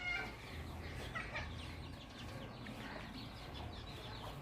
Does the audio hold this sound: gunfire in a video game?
no